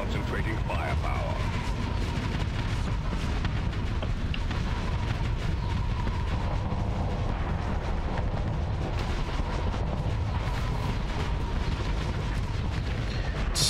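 Ion cannons and other energy weapons fire in a Starsector space battle, a dense, continuous barrage of booming shots and crackling impacts that runs without letup, with someone talking over parts of it.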